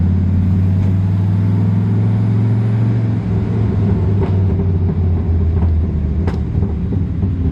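A steady, loud low engine rumble with a deep exhaust burble, swelling slightly as the engine revs, with a few sharp pops near the end.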